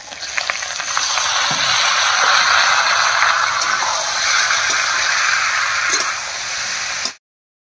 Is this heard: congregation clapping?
no